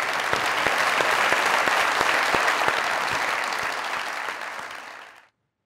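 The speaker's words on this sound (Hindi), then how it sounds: "जोरदार तालियां।" A studio audience at a comedy talk show gives loud, dense applause with sharp individual claps, sustained for about five seconds before cutting off abruptly.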